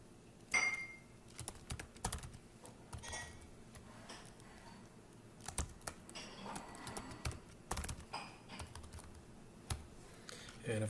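Someone types a password on a computer keyboard, making a steady, close patter of key presses with brief pauses, in a quiet indoor room.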